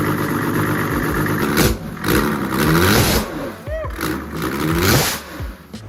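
A diesel-swapped 2JZ engine mounted in a Datsun runs and revs, rising and falling in uneven bursts with loud, close mechanical roar and a few short pauses.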